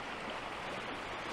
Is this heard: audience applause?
no